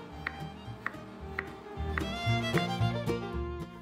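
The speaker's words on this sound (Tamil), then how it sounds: "இப்போ நம்மளோட பாயில்டு பொட்டேட்டோஸை வந்து நான் க்யூப்ஸாக கட் பண்ணி எடுத்துக்க" Knife cutting boiled potatoes into cubes, a few soft, evenly spaced taps against a board, close and quiet, with low kitchen rumble underneath and no talk.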